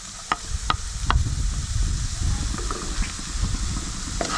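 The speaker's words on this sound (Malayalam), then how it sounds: "സവാളയൊക്കെ വെച്ചത് നന്നായിട്ടൊന്ന് വഴണ്ട് വരുമ്പോഴേക്കും നമ്മൾ എടുത്ത് വെച്ചിട്ടുള്ള പച്ചമുളക് ചേർത്ത് കൊടുക്കാം." Onions and green chillies sauté in a pan for a knol khol curry, with soft continuous sizzling and several sharp spoon-scraping clicks from stirring, close and steady.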